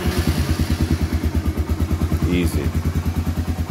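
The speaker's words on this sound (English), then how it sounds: "That was a true cold start" A 1987 Honda Big Red ATV engine, started cold with no choke, settles into a steady, even idle, its low pulsing thump loud and close while a voice speaks briefly over it.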